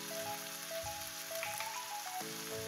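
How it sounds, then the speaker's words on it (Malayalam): Pepper chicken with ground coriander, chili, turmeric, garam masala and black pepper sautéing in a pan, a steady soft sizzle with faint scraping, no voices. "ചേർത്ത് നന്നായി ഇതിൻ്റെ പച്ചമണം മാറുന്ന വരെ ഒന്ന് വഴറ്റിയെടുക്കാം"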